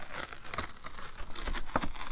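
Paper tearing as a layer of manila folder pulls up, two or three short rips and crinkles close by in a quiet craft room.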